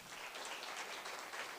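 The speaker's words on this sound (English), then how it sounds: "And let's clap for them." An audience at a national teaching awards ceremony claps steadily for the awardees, a soft, even wash of applause heard from a distance.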